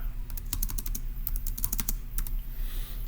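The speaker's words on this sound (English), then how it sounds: "let's type it up." Fingers tap out a short burst on a computer keyboard, a close run of quick clicking keystrokes over a low background hum.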